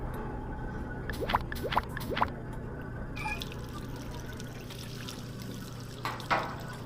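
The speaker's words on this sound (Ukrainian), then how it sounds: "Беремо картофан. Миємо." Potatoes are washed under running water: a quiet, steady flow with splashes and light handling bumps as they are rinsed, and a louder gush near the end.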